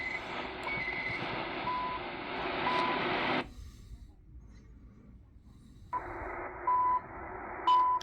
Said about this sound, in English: Let's try it with the tones again.